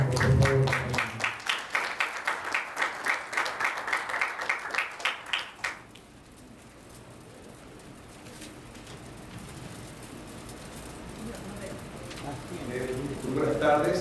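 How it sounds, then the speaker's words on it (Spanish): An audience at a criminal law lecture applauds steadily for several seconds, then the clapping fades into room tone as a speaker begins talking. "Démosle un caluroso aplauso"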